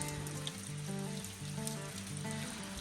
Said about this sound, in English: It is monumentally pouring, and it hasn't stopped for like 24 hours